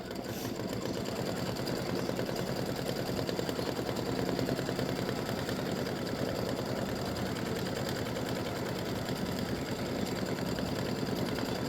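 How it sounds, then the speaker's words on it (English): An embroidery sewing machine runs steadily, stitching a filled design with a fast, even needle rhythm. The sound is close, continuous and mechanical from start to finish. "it's stitching a filled design"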